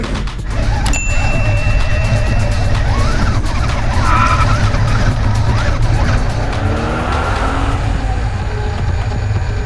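An RC truck drives around a backyard course in the snow, its motor whining and tires grinding and skidding loudly and close for nearly ten seconds, with a brief ding early on.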